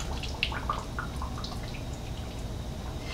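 Hot water poured from a funnel into a canning jar packed with tomatoes, a steady splashing trickle with a few brighter drips, continuous and close by.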